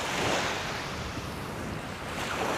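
Surf breaking and washing continuously on the beach at Sanna, Ardnamurchan, a broad, steady roar mixed with wind buffeting the microphone, with no voices.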